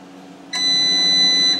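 A darkroom enlarger timer starts with an abrupt, steady electronic tone that holds for about a second over a faint background hum, close and fairly loud.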